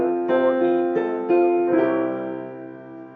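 A piano plays a pop accompaniment pattern in steady sixteenth notes, the left hand joining the right. Several even, ringing strikes are followed by a held chord that decays. No voices.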